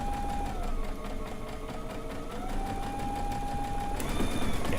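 A sewing machine stitches down strips on a stone log cabin quilt block, a steady close mechanical whir with a running motor hum whose pitch shifts slightly as speed changes, continuous throughout.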